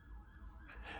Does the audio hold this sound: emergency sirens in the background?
yes